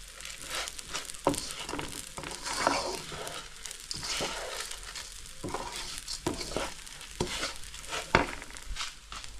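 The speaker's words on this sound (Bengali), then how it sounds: "চালটা ভাজা হয়ে গেছে, এখন আমি স্টোভটা দিয়ে দেবো এর মধ্যে।" Rice for pelau fries in a pan and is stirred, a soft sizzle broken by scraping strokes of a utensil at an irregular pace, fairly quiet.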